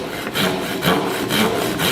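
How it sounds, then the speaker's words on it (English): Hand saw cutting into wood along a saw guide for hand-cut joinery, a close rasping rhythm of about six even back-and-forth strokes with no voices. "the saw itself is guided through into the wood"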